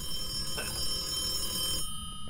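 An old telephone rings inside a haunted building in the horror game Phasmophobia, its tone steady and fairly loud under a constant hum of game ambience before cutting off near the end.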